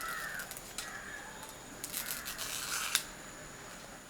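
Scissors trimming front legs in half, heard as a few short, crisp snips and rustles close by, fairly faint, with no talking.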